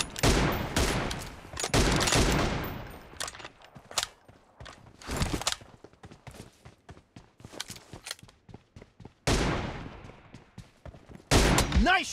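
Bursts of gunfire from an M24 and other weapons in a PUBG Mobile duo team deathmatch, loud clustered shots separated by quieter stretches of scattered single cracks and footstep-like clicks.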